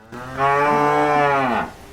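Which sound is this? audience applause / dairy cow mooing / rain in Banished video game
dairy cow mooing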